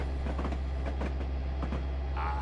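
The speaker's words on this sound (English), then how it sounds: "Gotta love that purr of a diesel." Steady low rumble of a P42 diesel locomotive in Train Simulator, with faint rhythmic clicks and a soft whine near the end, running continuously at a moderate level.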